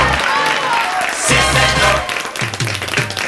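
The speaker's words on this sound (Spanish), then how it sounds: "Un aplauso para diciembre." A television studio audience bursts into loud, close applause, a thick crackle of many hands filling the short stretch, with a voice talking through it.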